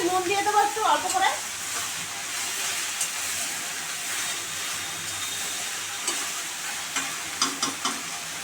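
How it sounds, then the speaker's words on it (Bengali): Ridge gourd hissing in a hot pan as it is stirred, a steady close sizzle with occasional spatula scrapes and clinks, no talking. "নেনুয়াটা একটু নাড়াচাড়া করে নুন দিয়ে দেবো একটু অল্প করে।"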